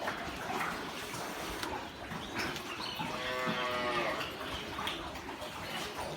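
A cow gives a single drawn-out moo partway through, close and clear, over a busy background of farmyard noise and low rumble.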